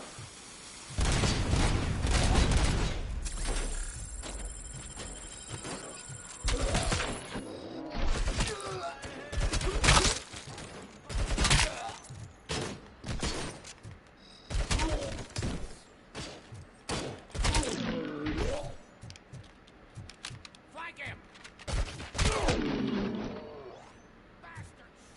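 Grenade launcher blasts and rapid gunfire from a PS5 shooter game: repeated booms, thuds and bursts of shots over about twenty-five seconds, loud and close, mixed with game effects and a voice talking at times.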